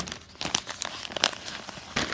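Packing paper crumpled by hand while unboxing a spice order, a close, busy series of crisp crinkles and rustles with no voice.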